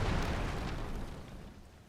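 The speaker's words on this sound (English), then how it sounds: "Back up, because I'd rather not die to my own explosions" Bomb explosions blast apart rocks in Tears of the Kingdom, a loud, broad rumbling boom that hits at once and slowly decays over a couple of seconds.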